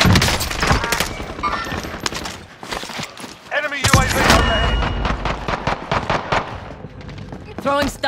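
Rapid gunfire from Call of Duty Warzone: dense bursts and overlapping automatic fire run almost continuously, loud and close, with sharp peaks around the middle. Voices talk over the shooting.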